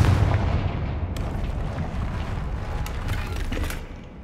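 A Confringo blasting spell in Hogwarts Legacy bursts into a loud, booming explosion that rumbles and crackles for several seconds before fading slightly at the end.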